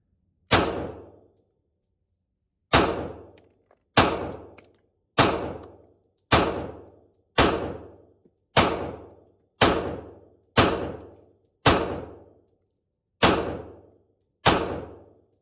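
Eleven sharp gunshots from a pistol fed by an ETS magazine ring out one at a time with uneven gaps, each loud and close with a quick decaying tail, and no one talks.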